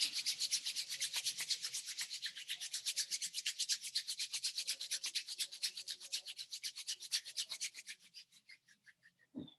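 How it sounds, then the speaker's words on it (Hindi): Palms rubbed briskly together in a fast, steady back-and-forth rhythm, a close, dry swishing that slows toward the end before a soft final clap or touch, with no speech. "हाथों को रब कर लेंगे।"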